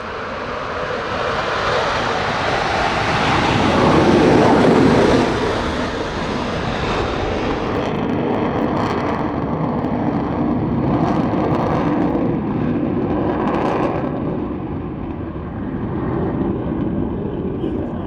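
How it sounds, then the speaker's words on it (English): A Morane-Saulnier MS-760 Paris and a V-tailed Fouga CM-175 Zephyr jet pass overhead at an air display, a broad engine roar swelling to a peak and then holding as a steady rushing drone with faint crowd noise underneath. "MS-760 Paris, accompanied by the Fugger CM-175 Zephyr"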